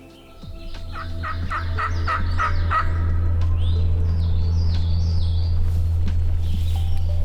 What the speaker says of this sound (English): Last time he gobbled, it sounded like he's getting closer.